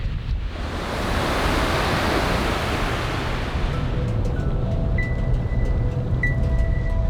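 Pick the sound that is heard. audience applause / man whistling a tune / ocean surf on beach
ocean surf on beach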